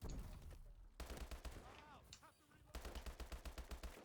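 Rapid automatic gunfire in the shooter game Call of Duty: Advanced Warfare, with dense bursts at the start and end and a sparser stretch between, quiet but distinct.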